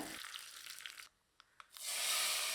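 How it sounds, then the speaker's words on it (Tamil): Crackling, hissy sizzle of mustard seeds and curry leaves frying in hot oil, with a short quieter gap broken by a few sharp pops before the sizzling surges back loud. "எண்ணெய் சூடாயிடுச்சுங்க தாளிக்க அரை டீஸ்பூன் கடுகு கடுகு பொரியது"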